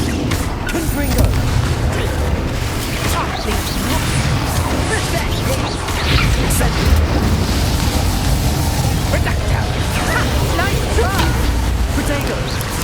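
Fiery Confringo spell blasts in Hogwarts Legacy, heavy booming explosions and crackling bursts repeating densely over continuous game rumble, with a player talking over the action.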